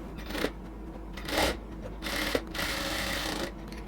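A sewing machine stitching cotton dress fabric, running in short bursts of rapid mechanical whirring separated by brief pauses, close and clear with no talk.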